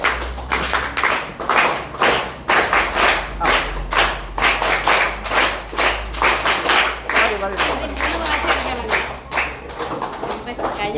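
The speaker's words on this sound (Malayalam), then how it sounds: "ഞാനൊരു കൈയടി കാണിച്ചു തരാം." Rhythmic hand clapping in a steady beat, close and loud, sustained throughout with voices talking over it.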